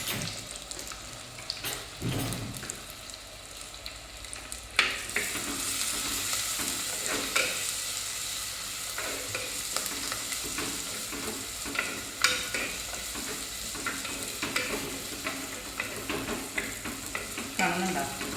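Sardines frying on a banana leaf in a pan give a steady, fairly loud sizzle with small crackles and occasional stirring scrapes, running continuously with no talk.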